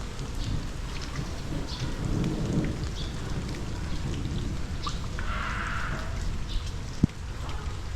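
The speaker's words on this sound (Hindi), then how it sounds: "यहाँ कभी भी बारिश हो जाती है" Steady rain falls throughout, a dense hiss of drops with a low rumble underneath, like distant thunder, and a sharp single tap near the end.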